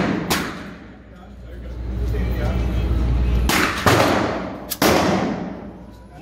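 Handgun rounds fired at an outdoor shooting range, a few loud sharp shots spaced seconds apart over steady wind and background noise.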